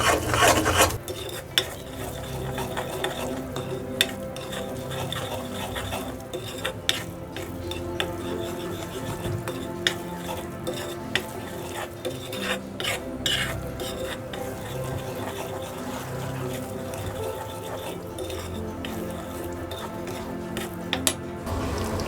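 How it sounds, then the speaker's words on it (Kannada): Gram flour being stirred and roasted in a pan for a cashew nut sweet, a steady scraping and rubbing of spoon against metal with faint sizzle and occasional sharp clinks, close and continuous with no talk. "ಕಡಲೆ ಹಿಟ್ಟು ಒಳ್ಳೆ ಹುರಿಬೇಕು, ಪರಿಮಳ ಬರಬೇಕು."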